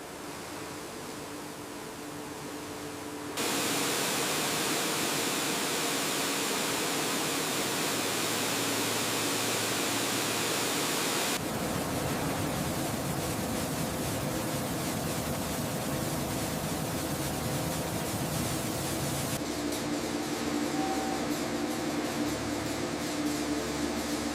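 Water spray flushes a livestock washing section, a broad continuous hiss that jumps louder after a few seconds and shifts tone twice as the spray moves, steady and close with no voices.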